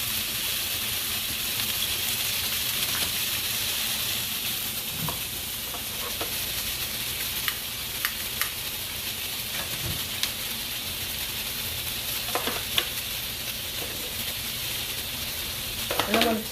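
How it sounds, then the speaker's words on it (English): Sausage browning in a frying pan on a stove, a steady crackling sizzle with scattered pops and occasional stirring scrapes, continuous and close without talk. "What I'm going to do is brown the sausage on both sides."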